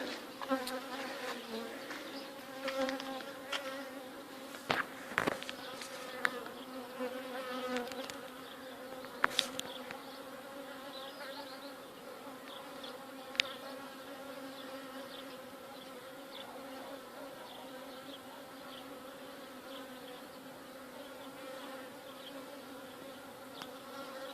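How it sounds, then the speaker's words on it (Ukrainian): Honey bees at an apiary in mid-June, a continuous droning hum of many insects at moderate distance, with a few louder buzzes as single bees fly close, no speech. "Ось такі справи 14 червня на моїй пасіці."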